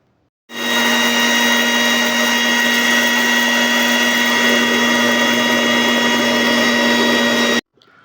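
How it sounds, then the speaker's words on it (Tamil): A mixer grinder jar grinds chia seeds for a weight-loss soup, a loud steady motor whine with a strong hum that starts abruptly, runs evenly for about seven seconds, then cuts off sharply. "இப்போது மிக்சி ஜாரில் போட்டு அரைக்க போகிறேன்"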